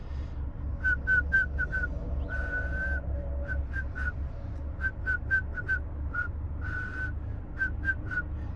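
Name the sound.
imitated monotone tuneless whistling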